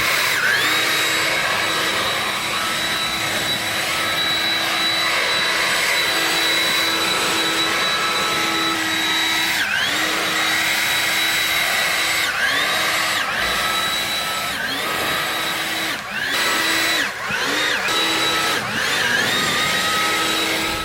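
Stihl BGA 86 and BGA 250 cordless leaf blowers clear a driveway with a loud, continuous high-pitched whine and rushing air, the pitch briefly dipping and recovering several times as the blowers are swept and repositioned.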